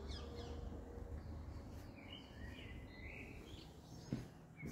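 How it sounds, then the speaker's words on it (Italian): Small birds and parrots chirp outside a quiet balcony of an apartment in the Albaro district, with scattered faint calls over a steady low background hum. "sentono uccellini, pappagalli"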